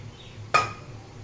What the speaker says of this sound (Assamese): এতিয়া আকৌ বাচনকেইটা ধুবলৈ আহিছোঁ